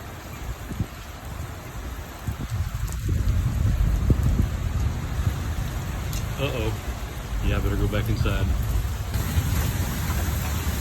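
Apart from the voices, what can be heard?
heavy rain and thunder during Oklahoma thunderstorm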